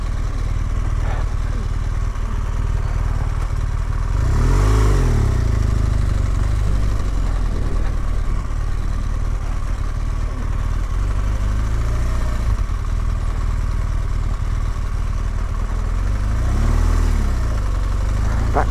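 A motorcycle on Michelin Anakee Wild tyres rumbles along an off-road track, its engine loud and steady with rising revs in a couple of places, and a rider talks over it at times.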